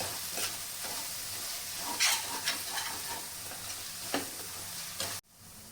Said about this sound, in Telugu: ఈ మసాలాలన్నీ బాగా ఫ్రై అయ్యేలాగా కలుపుకుందాం